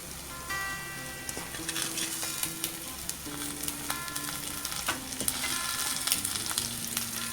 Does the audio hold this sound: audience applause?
no